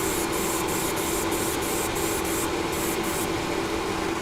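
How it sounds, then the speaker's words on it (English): Vallejo white surface primer sprayed in a fine mist coat, a loud, steady close hiss broken by a quick series of short rhythmic pulses before it eases off. "we'll start with the white primer, the Vallejo primer, and we'll just give it a mist coat"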